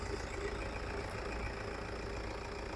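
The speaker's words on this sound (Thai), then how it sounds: "โอ้เครื่องยนต์ ฟิตสตาร์ติดง่ายนะครับ ชึงเดียวติด ครับ เครื่องดีมาก" A 2009 Toyota Vigo Prerunner SmartCab with a 2.5 turbo engine and manual gearbox idles just after starting, giving a steady, even rumble close by with no voices.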